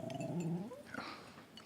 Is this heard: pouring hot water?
no